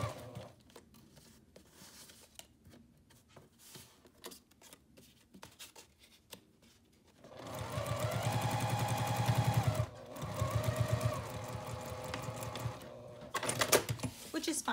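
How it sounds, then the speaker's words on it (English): Quilting sewing machine running a straight stitch through fabric, a close, rapid mechanical whir in two long bursts after scattered handling clicks and taps, with a person talking quietly nearby. "This machine is made for quilting, like I said, so it's it only does straight stitch."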